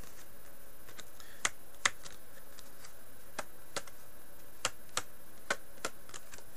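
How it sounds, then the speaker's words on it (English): Deck of gold Arcane playing cards handled and flicked, producing sparse, sharp paper snaps and clicks at an uneven rhythm, faint and close against a quiet background, with no talking. "Sounds a little bit different, but that just could be because of where I'm holding the card here."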